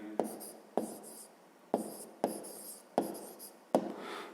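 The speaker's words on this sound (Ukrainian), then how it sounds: "Пишемо відповідь." Pen writing out an answer to a fifth-grade math exercise on paper, with six quick scratchy strokes, each starting with a small tap, close and quiet.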